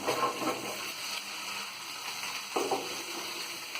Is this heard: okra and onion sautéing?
yes